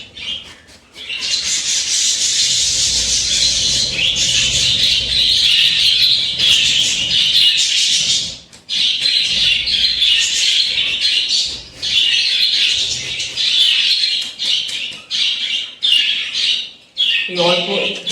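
Small pet birds chirp and squawk continuously while being fed a mix of egg, carrot and flattened rice, a dense busy chatter with brief gaps, with faint rubbing sounds underneath.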